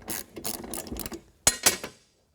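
Hand ratchet tightening bolts while fitting body armor on a Yamaha Grizzly 700 ATV: quick bursts of close, dry clicking in short runs, then two sharp final clicks before silence.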